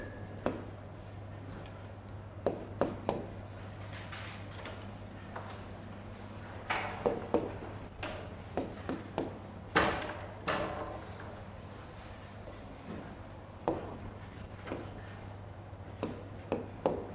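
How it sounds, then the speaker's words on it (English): A lecturer writing on a board during a lecture on transformers, with faint tapping and scratching strokes in irregular clusters over a low steady hum in a quiet room. "So I will write it here."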